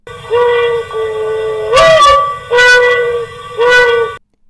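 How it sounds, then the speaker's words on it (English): A dove-like cooing call repeats in three swelling bursts over a steady tonal drone, all bathed in a hollow, resonant plastic-sounding convolution reverb simulating a large plastic sphere. "here is a dove in a large plastic sphere"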